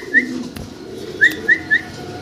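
A pair of German Shield pigeons gives a few short, close calls: one isolated note, then three quick calls in a row over a faint steady background hum.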